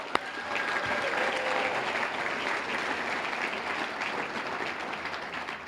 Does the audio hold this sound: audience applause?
yes